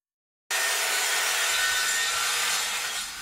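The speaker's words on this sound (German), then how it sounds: "Wir schneiden die Teile zu." Parts are cut from 1 cm film-faced plywood board for a high-roof bed in a VW T3 bus. A loud, steady, close-up rasping saw noise starts abruptly after a brief silence and runs on unbroken.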